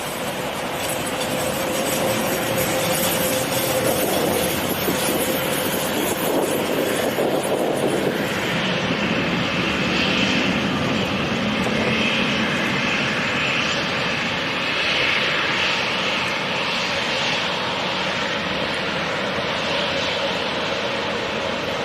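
A departing airliner at London City Airport makes a loud, continuous engine roar that holds steady for the whole stretch, with no voices over it.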